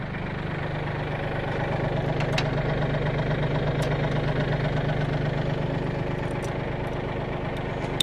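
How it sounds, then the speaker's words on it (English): A sub compact tractor engine idles steadily nearby, a continuous low mechanical rumble with a faint knocking texture that holds even throughout, with no talking over it. "you can leave your tractor running for this part"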